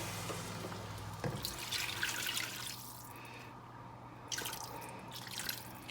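Water, about two cups, splashes and trickles into a pot for making seasoned rice in two bursts, with a pause between, over a steady low hum from the stove.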